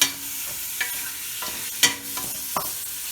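Onions braising in a pan for an Algerian tajine with quinces and prunes, a soft sizzle under a few light stirring scrapes and utensil taps, close and fairly quiet.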